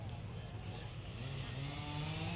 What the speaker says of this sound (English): I can hear a car, but I'm not sure if it's just the side-by-side going